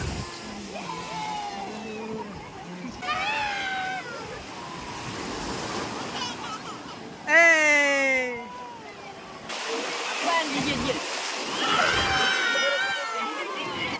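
Sea waves wash and surge at the shore at Thiruchendur while a family bathes and splashes in the water, the steady roar of the surf swelling and easing, with voices calling out over it.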